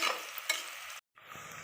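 Onions sautéing in a pan for homemade biryani, with steady close sizzling and stirring scrapes that break off for a moment of silence and then resume.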